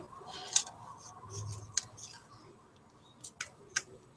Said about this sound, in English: I'm just going to trim one end